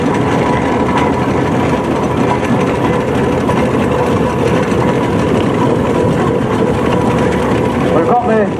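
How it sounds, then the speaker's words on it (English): A Marshall steam traction engine passes at a steam rally, its low, continuous chugging rumble loud and close throughout, with a commentator's voice running over it. "That's going to be followed by another Marshall traction engine owned by Robin Battersby and Phil Steer from"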